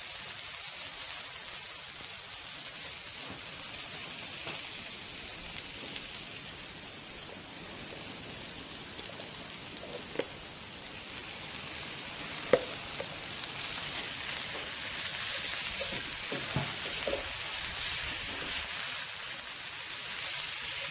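Sausage sizzling in a cast iron pan on an outdoor grill, a steady close frying hiss with occasional pops and crackles, no talking.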